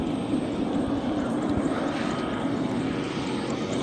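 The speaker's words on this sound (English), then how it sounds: "we also have a small propeller paragliding flying machine" A small propeller engine on a paragliding aircraft drones steadily at an air show, a constant buzzing whir at moderate distance with no breaks or talk.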